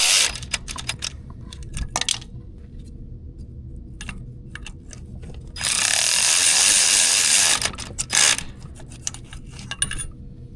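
Thermostat housing bolts being tightened on a 2.4L four-cylinder 2014–2023 Jeep Cherokee engine: quick ratchet clicks in bursts, then a long loud whirring buzz of a power tool, followed by more clicks and metallic taps, no talk.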